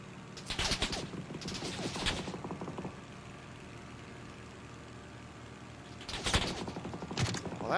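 Gunfire in the battle royale game PUBG: a couple of sharp bursts of shots near the start, then a quieter stretch of low rumble, then more shots near the end, all set over a steady background hum.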